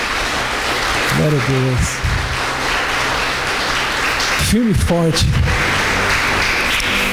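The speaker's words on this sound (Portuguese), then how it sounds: "Merece um aplauso, não merece não, irmão?" A church congregation claps in a dense, sustained round of applause. Voices call out briefly over the clapping a couple of times.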